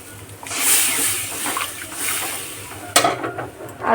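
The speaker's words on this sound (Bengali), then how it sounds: "এবার আমি মশলা ধোয়ার জল দিয়ে দেব।" Water left over from rinsing spices poured into hot masala frying in oil in a pan, a rushing hiss and splash building then settling, with a sharp sizzle burst near the end.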